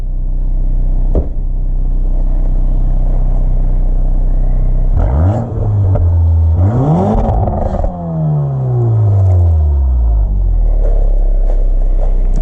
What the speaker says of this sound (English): Give the engine a rev.